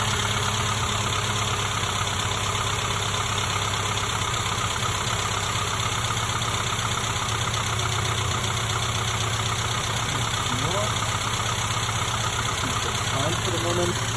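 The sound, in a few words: A-series engine idling, revs increased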